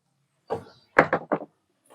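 Small wooden door on a mini table being pushed shut, several quick knocking thuds in close succession, near and fairly quiet with silence around them.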